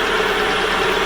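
A car engine idles steadily at close range during a radiator coolant change, a continuous even rumble with a faint knocking texture and no voices.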